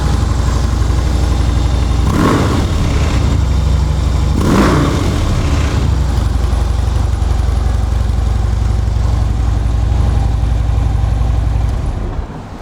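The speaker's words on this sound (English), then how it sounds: "Hear that factory exhaust. It's not real loud." A Harley Davidson Electra Glide Police FLHTP motorcycle with factory exhaust runs close by in a steady, moderately loud low rumble, with two brief revs early on before it cuts back near the end.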